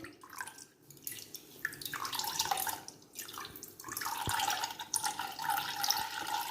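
Water draining and dripping from squeezed white pumpkin (petha) pulp left to sit after juicing, a soft uneven trickle with scattered drips, fairly faint and close, with no talk.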